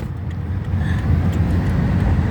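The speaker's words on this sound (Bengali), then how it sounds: "দেখুন রাস্তায় গাড়িগুলো চলছে, কোনো হর্ন বাজছে না" Cars moving steadily along a road with no horns, a continuous close traffic rumble that stays even throughout.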